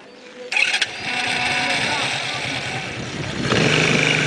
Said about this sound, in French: Démarre un peu ta moto et fais un petit tour ici.